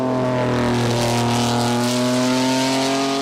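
Toyota 2000 GT sports car engine revving, a smooth rising and settling mechanical whine with strong layered tones, loud and continuous with no talking.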